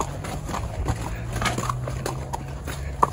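Horse hooves clop at a steady walking pace down a slope on a ride through a canyon in Cappadocia, Turkey, with a low engine-like drone underneath and brief faint voices.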